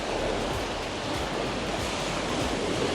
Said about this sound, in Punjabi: ਠਾਠਾ ਮਾਰਦਾ ਹੋਇਆ ਸਮੁੰਦਰ